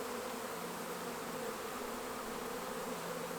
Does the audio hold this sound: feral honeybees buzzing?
yes